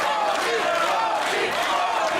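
A loud wrestling crowd chants and cheers at a women's title match between Toni Storm and Wesna, the dense, close mass of voices split into competing rhythmic chants that roar steadily without a break.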